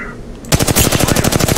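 Rapid automatic gunfire in Apex Legends bursts in after a short quiet stretch, a dense run of loud, evenly spaced shots continuing to the end.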